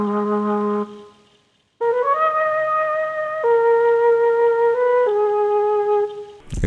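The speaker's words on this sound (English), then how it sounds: "It's only like a flute melody, pretty simple." A simple flute-preset melody, softened with reverb and a muffled EQ, plays a few sustained tones that step between pitches, with a short gap partway through and no voices.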